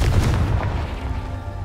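A deep booming blast from the Confringo explosion spell in Hogwarts Legacy, one loud low-heavy burst at the start that rumbles and fades over the next second or so.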